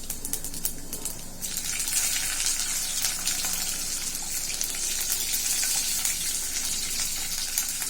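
Green chillies frying in hot oil with a pinch of salt, a steady loud sizzle with dense crackling spatter that holds throughout, no voices.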